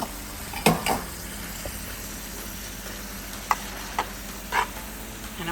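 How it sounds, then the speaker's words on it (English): Grape tomatoes, spinach and capers with a splash of caper juice sauté in a pan, sizzling softly and steadily while a utensil scrapes and knocks against the pan now and then. "I just want to saute this a bit more"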